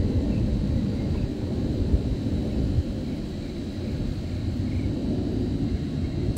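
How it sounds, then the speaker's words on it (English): A deep, continuous jet roar rumbles overhead, steady and broad, from F-22 and F-35 military fighter jets passing above. "We got some F-22s and F-35s flying over."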